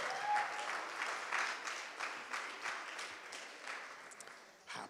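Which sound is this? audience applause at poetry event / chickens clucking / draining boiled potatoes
audience applause at poetry event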